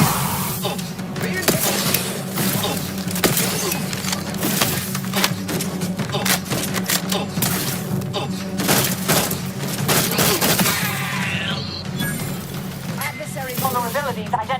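Rapid gunfire in the sci-fi shooter The Outer Worlds 2 crackles in a dense string of sharp shots and impacts, running steadily throughout beneath a synthetic voice speaking over the action.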